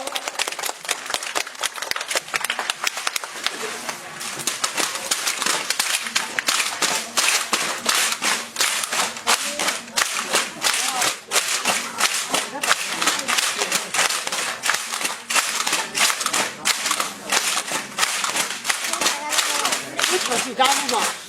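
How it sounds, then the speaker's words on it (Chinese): Warm, sustained applause from guests at a bamboo-pole dance performance, a loud, dense and steady wash of many hands clapping that carries on without a break throughout. "掌声呢非常热烈"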